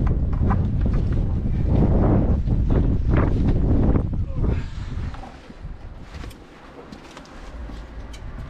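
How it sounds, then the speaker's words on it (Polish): Strong gusty wind from the east buffets the microphone of a cyclist riding into a headwind, with heavy low rumbling, easing off in the second half as a voice speaks over it. "wiatr ze wschodu, więc tutaj tak kawałek jechałem prosto pod wiatr"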